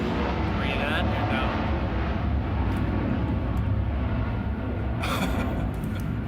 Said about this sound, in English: Those planes are so loud.